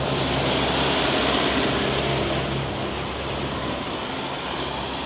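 A truck drives past on a town street, a loud, steady broadband rumble with engine drone that swells then slowly eases over several seconds, close by and alone with no talk.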